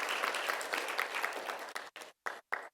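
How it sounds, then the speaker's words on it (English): A youth mental health symposium audience applauds itself, with dense, steady clapping that fills the room and then breaks into a few short final bursts with gaps between them. "Give yourselves a round of applause."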